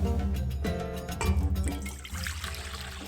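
Lukewarm water and milk poured together for a yeast dough, a steady splashing, gurgling stream close by that shifts in tone as the container fills, no voices.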